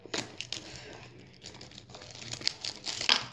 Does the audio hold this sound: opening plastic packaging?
yes